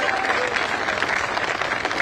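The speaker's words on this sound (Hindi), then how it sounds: "तालियां बजनी चाहिए मुख्यमंत्री के लिए।" A crowd claps for the chief minister at a Run for Unity event in Jaipur, a dense, loud, continuous burst of applause with no voices over it.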